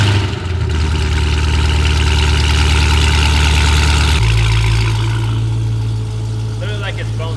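A Dodge Hellcat V8 exhaust with Valvetronic Designs universal mufflers idles with a deep, loud, steady burble, shifting to a lower rumble partway through, with a voice briefly heard near the end.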